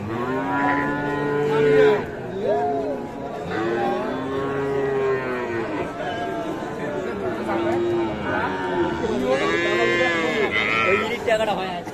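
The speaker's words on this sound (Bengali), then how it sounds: "এ পাশের এগুলো সবই ষাঁড় বাচ্চা" Young bull calves about three months old mooing and bleating at Ambari cattle market, with loud, close, drawn-out calls one after another while people chatter nearby.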